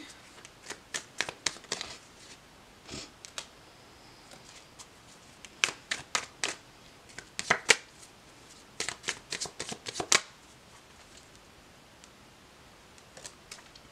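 Tarot cards are shuffled and drawn by hand, giving quick crisp riffling bursts and soft slaps in irregular clusters, close and fairly quiet with pauses between.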